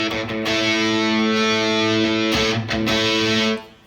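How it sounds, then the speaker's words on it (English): Electric guitar played through a Boss ME-80 distortion setting into a 1968 Fender Deluxe Reverb, sustained gritty chords ringing loud and thick, with a few brief breaks before the sound fades at the end. "I have it set up as a distortion, meaning, listen to a little bit of distortion"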